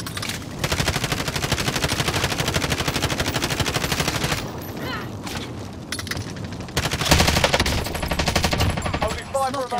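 Sustained automatic gunfire in Call of Duty: Modern Warfare, a loud, dense, continuous rattle of shots with a brief lull and then a heavier burst, with players talking over it.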